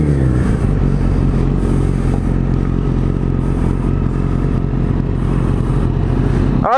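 A Triumph Daytona or Yamaha FZ1 Fazer motorcycle engine runs loud and close, a steady throbbing rumble held for several seconds without talk.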